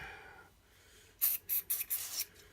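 Five short aerosol bursts hiss in quick succession onto a Laurona Eibar shotgun, close and sharp, after a quiet start with a faint hum.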